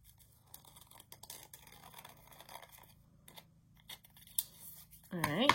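Scissors snip quietly through paper while cutting out a tessellation shape, a run of small, faint cuts under low background noise, with a voice rising at the end.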